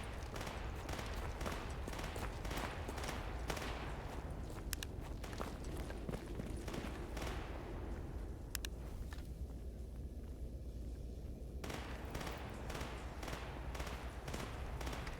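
Rapid bursts of gunfire in a shooter video game, dense and loud, with rattling automatic volleys and sharper single cracks running continuously throughout.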